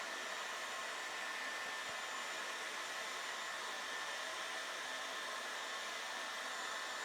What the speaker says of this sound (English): Simply a hairdryer and a balloon.